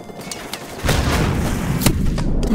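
A Stinger missile launched in the Modern Warfare Remastered video game: a heavy booming launch followed by sustained roaring rumble and scattered sharp gunfire-like cracks.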